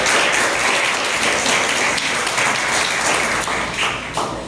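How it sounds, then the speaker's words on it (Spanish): Dense, loud applause from a church congregation during a Spanish-language sermon, a continuous wash of many hands clapping close by, easing slightly toward the end. "Dale un aplauso a Él, aleluya."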